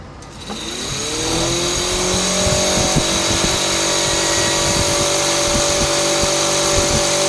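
A car engine hums steadily, its pitch rising and settling as it shifts through gears, with a whining tone over the steady rumble and no voices.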